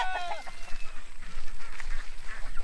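A chicken on a farm lets out a few close, honking calls at the start over a rumbling outdoor background.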